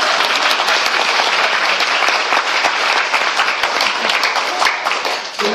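A large lecture audience in Taipei breaks into loud, sustained applause, a dense wash of many hands clapping at once that runs steadily from start to finish without a pause.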